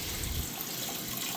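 Water runs steadily from a bathroom tap in a Japanese Hyatt hotel with low pressure, giving a constant close hiss throughout with no speech.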